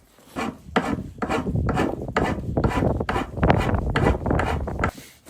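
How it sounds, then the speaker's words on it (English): Hand rasp shaping and thinning a wooden tool handle, about ten coarse rhythmic strokes that rasp steadily and close up with no talking. "I'm just working with the rasp and I'm thinning it out just a little bit"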